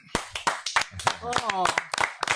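Scattered audience claps ring out in a French talk show, with voices talking over them throughout.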